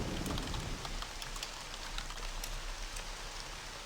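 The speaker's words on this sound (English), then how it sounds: "The rain was coming down in sheets." Rain pours down in the video game Trilby's Notes, a dense, steady hiss of falling rain with scattered drop patters, loud and unbroken with no voices.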